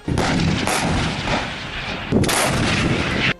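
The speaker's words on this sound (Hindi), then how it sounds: "इन वीडियो में अजरबैजान की तोपें दुश्मन पर आग उगलती नजर आईं" Azerbaijani artillery cannons fire on enemy positions in a war zone, two big roaring blasts with rumbling echoes, loud and continuous with no talk.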